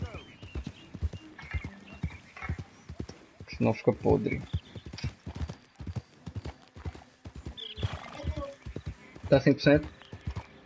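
Horse hooves clip-clopping in a steady riding rhythm in Red Dead Redemption 2, close and clear, with a horse snort or whinny partway through and someone talking over it.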